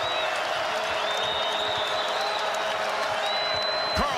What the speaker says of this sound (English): Crowd on its feet here at the Wells Fargo Center